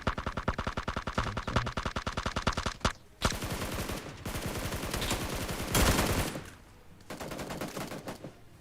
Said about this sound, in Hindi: देखो गोलियां कहाँ से चल रही है